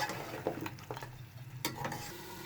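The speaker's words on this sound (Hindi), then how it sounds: "5 मिनट हो गए हमें मिर्चों के साथ भूनते हुए।" Nihari masala and chilies stir-fried in hot oil for beef nihari: a steady sizzle with repeated scraping stirs, crisp and close, no talking.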